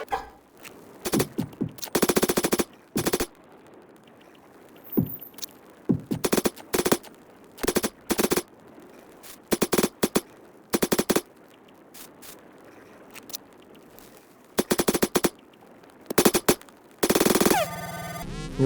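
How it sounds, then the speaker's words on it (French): Rapid bursts of automatic gunfire strike cultists in the forest survival game 99 Nights in the Forest, sharp loud volleys that repeat in clusters with short quiet gaps between them. "avec tout ce que je leur ai tiré dessus, ils veulent toujours pas mourir"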